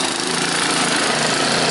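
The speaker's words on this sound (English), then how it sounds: "Sounds like the idle circuit's plugged on it." Small scrapyard water pump engine running with a plugged idle circuit, a steady, loud, buzzy mechanical drone close by with no variation, and no speech.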